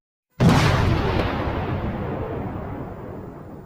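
A single sudden, loud TNT explosion in a video game erupts, then trails into a long, fading rumble with no talking.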